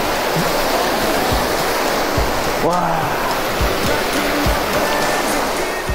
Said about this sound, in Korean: 세찬 물소리가 들립니다.